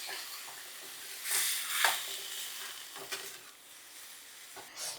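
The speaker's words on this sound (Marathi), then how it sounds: "याला मिसळूया आणि यामध्ये घालायची आहे भाजी आणि याला चांगलं मिक्स करूया" Safflower greens tossed with chili powder and salt in a hot pan, a soft sizzle with several scraping stir strokes, fairly quiet and close, no talking.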